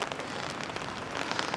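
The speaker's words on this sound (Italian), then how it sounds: "peccato che piove" Steady rain falls on a seaside promenade in Recco, Italy, a constant soft hiss of drops pattering on hard surfaces with no voices, quiet and even throughout.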